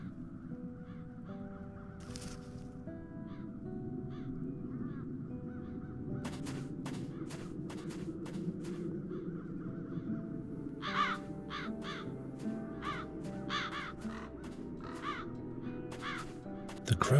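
Crows caw repeatedly in The Dark Eye: Chains of Satinav, harsh calls scattered in irregular bursts over a low ambient game soundscape, some clustered in quick runs, moderately near.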